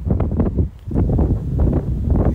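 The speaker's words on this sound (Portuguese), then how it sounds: "Que é a 4ª vez que a gente tenta gravar essa abertura por causa do vento." Strong wind blowing into the microphone outdoors on a summer beach at Esposende, Portugal, loud, uneven gusty buffeting and rumble with one brief lull.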